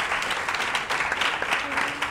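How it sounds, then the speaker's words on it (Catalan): A crowd applauds steadily, a dense wash of clapping hands that fills the whole moment. "Demano un aplaudiment per ells"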